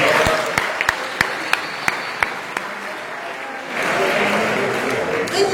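A church congregation applauding to acclaim the Lord during a teaching: a few sharp, separate claps at first, then a dense wash of crowd applause swells in and continues, loud and close.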